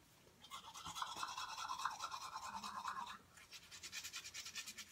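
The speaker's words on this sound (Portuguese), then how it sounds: "eu terminei de escovar" Toothbrush scrubbing teeth after lunch, a close, steady rhythmic bristle rasp in quick strokes, pausing briefly midway and then resuming.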